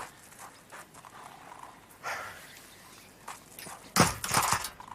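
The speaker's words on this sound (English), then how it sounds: "Get off your horse!" Horse hooves clip-clop in a BBC radio drama, soft and uneven at first, then growing louder and closer near the end.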